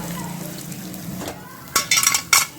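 Homemade kurkure pieces fry in hot oil with a soft, steady sizzle, then a metal utensil clinks and scrapes against the pan in a few sharp knocks near the end.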